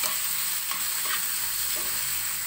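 Ingredients for Filipino sarciado sizzle and fry in a pan, a steady, close crackling hiss with a few stirring scrapes and no talk.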